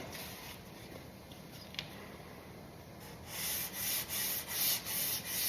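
Primed car body panel being sanded by hand with 180 grit sandpaper, heard as close rhythmic scratchy strokes in the second half after a quieter stretch of faint rubbing, with no talk.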